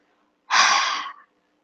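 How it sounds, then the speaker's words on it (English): A single deep breath pushed out through the open mouth with a breathy "ha", close and clear, lasting under a second against silence. "inhale deeply and exhale with a ha sound"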